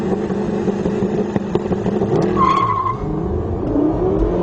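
Loud engines of a Porsche Turbo S, Mercedes SLS 63, Lexus LFA and Nissan GT-R roar and rev hard as they launch in a drag race, with tires briefly squealing amid the continuous mechanical growl.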